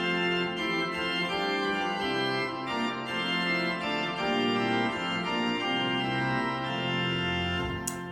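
A mixture stop combined with principals on the pipe organ of the Bovenkerk in Kampen gives a bright, full chordal sound with moving lines, sustained and steady throughout, no voices.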